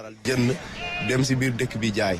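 Sheep bleating at a livestock market, several harmonic bleats following one another closely with a busy background, loud and near.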